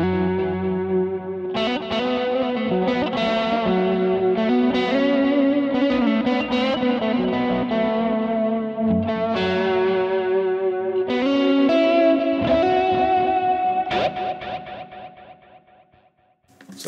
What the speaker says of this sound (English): you have this kind of fluttery thing. So it's created with a chorus effect inside the feedback loop.